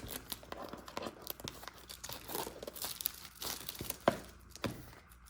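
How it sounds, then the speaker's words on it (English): Shrink wrap being peeled off a package up close, a busy run of crinkling plastic and tearing rips with a few sharper crackles, no speech. "let's peel the shrink wrap off"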